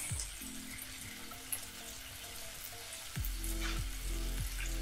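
Swordfish pan-frying, a steady close sizzle that grows louder partway through, with faint clinks and no talking.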